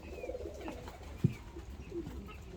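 Pigeons from Kayseri coo softly in a box as it is opened, a few low throaty calls close by with a brief bump partway through.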